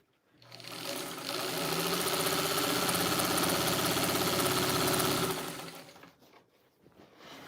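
A 1953 Singer 15 sewing machine stitches through a quilt in one steady, close, loud run of rapid mechanical whirring lasting about five seconds, then winds down to quiet.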